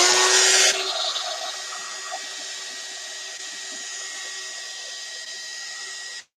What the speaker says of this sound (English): So now I'm going to use my dryer and I'm going to dry it.